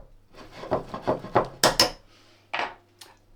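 Potatoes and sweet potatoes being stirred together in a pan for a Moroccan-inspired one-pan chicken dish, giving a string of close wooden-spoon scrapes and clunks against the pan with short pauses.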